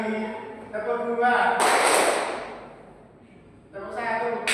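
A high-school class bursts into a single loud group clap during a counted clapping game, surrounded by a teacher's voice before and after.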